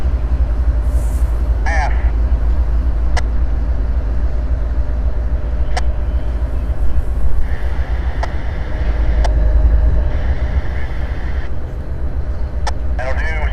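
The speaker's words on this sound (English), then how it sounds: "Let's watch and listen as they finish up dismantling this train." Norfolk Southern freight train 171 being broken up at the south end of Debutts Yard in Chattanooga, a steady low rumble of idling locomotives under wind, with sharp metallic clanks and brief bursts of voice, radio-like chatter.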